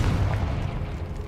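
Confringo blasting spell explosions in Hogwarts Legacy, a steady rumbling barrage of deep booms and bursts that roll on continuously at loud, close range for over a second.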